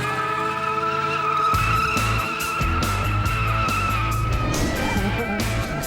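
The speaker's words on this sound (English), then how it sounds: "But Tori wants to brighten up Scotty and Carrie's day with his 2-wheel tricks" A car doing two-wheel tricks on a road gives off loud, continuous tire squeal and skidding over a roaring engine, sustained and close throughout.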